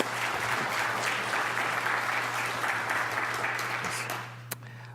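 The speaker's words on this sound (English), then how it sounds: "a round of applause." Dense, sustained applause from an audience at a liver transplant medical conference, even and fairly loud for several seconds before ending with a single sharp knock.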